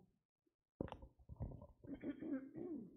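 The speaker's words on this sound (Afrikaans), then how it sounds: "Ek wil my keel skoonmaak." A man clears his throat with a low, rough, gurgling rasp, a few close guttural pulses after a brief silence, quiet and alone without speech.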